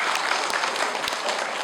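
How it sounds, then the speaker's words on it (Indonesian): A church audience gives a choir a warm round of applause, a dense and steady wash of clapping that stays loud and even for the whole short stretch. "Kita beri tepuk tangan untuk beliau."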